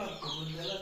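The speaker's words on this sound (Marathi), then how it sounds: "कोंबड्यांना खायला पाहिजे रे, बिचारे पाठून पाठून येतात." Chickens clucking softly close by in a rural yard, a brief low murmur of fowl calls, faint and under light background noise.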